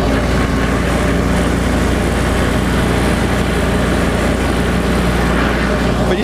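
Finishing mower cutting along a fence row behind a tractor, a steady loud engine drone with broad whirring blade noise, continuous and close throughout.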